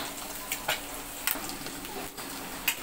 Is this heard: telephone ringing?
no